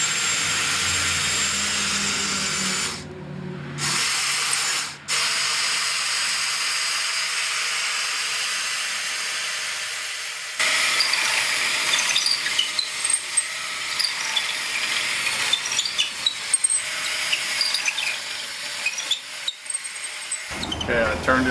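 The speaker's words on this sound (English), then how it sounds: "If I gonna hold the drill about right there, I should go pretty good through there." A power drill whines steadily as it bores through a candle stick to make a lamp. The motor cuts out briefly, starts again and runs on with a rough, fluttering grind, while someone talks over parts of it.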